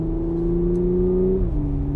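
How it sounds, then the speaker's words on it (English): Supercharger whine from an Audi S5 under acceleration, a loud steady high tonal whir over engine drone that dips in pitch near the end as the transmission shifts. "supercharger noises"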